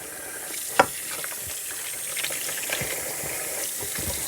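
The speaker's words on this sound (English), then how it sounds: "So the first thing we're going to do is wash these apples." Apples being washed by hand in a bowl of water, with close sloshing and splashing, a sharp knock near the start and steady trickling as the fruit is turned in the water.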